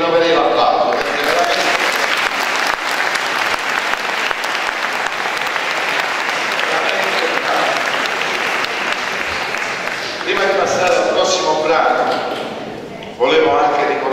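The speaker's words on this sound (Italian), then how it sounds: "Bravi, bravi, bravi Stanzi, io rinnoverei l'applauso." Loud audience applause fills a Christmas band concert in Venosa, sustained clapping with crowd voices mixed in, easing briefly before swelling again near the end.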